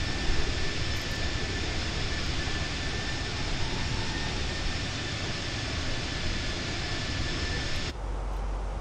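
Airbus A320 jet engines heard from outside the aircraft make a loud, steady, broadband roar with a constant high whine. Near the end the roar drops abruptly, as though muffled by a closing door.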